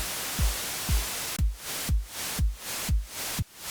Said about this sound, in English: We can now hear that the white noise is pulsing up and down in volume in relation to each kick drum hit.